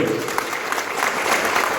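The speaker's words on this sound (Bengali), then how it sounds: "হাততালি দেবো জোরে।" A crowd applauds at an organisational meeting of the Hindu Mahasabha in a hall in Durgapur, with a short, dense burst of clapping throughout.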